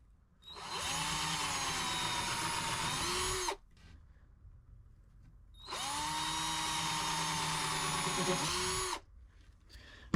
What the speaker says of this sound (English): Pre-drilling holes is a real pain.